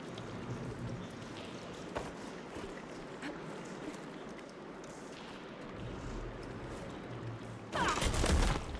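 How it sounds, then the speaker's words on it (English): Water flows and circulates through pipes in Horizon Forbidden West, a steady rushing and trickling wash with scattered clanks that swells into a louder, harsher gush near the end. "Gotta open the valve upstairs. Get that water circulating."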